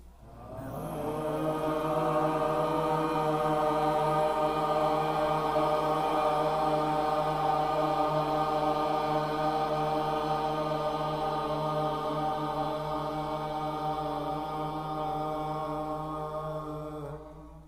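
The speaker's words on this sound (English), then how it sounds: "Just an ah sound. Let's just make that ah sound once." A single long, steady sung "ah" vowel held at one pitch for over fifteen seconds, rich in harmonics, fading slightly at the end.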